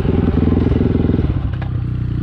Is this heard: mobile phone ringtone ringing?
no